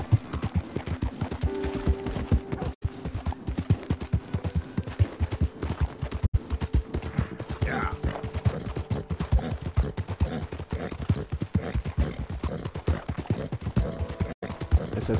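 Horse hooves clip-clopping steadily on the ground in the video game Red Dead Redemption 2, a continuous close rhythmic beat over soft game ambience, with brief faint distant pops and no talking.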